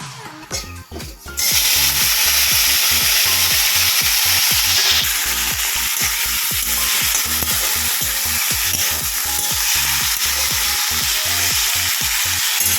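Pieces coated in turmeric, salt and semolina hit hot oil in a pan and break into a loud, steady sizzle. Rhythmic scraping of a stirring spatula runs through it, close up, with no talking.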